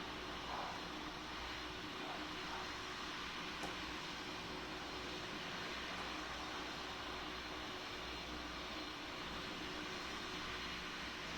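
Emirates Airbus A380-800 taxiing in the flight game PTFS, a steady, even jet engine rumble and hiss that holds at a constant moderate level for the whole stretch.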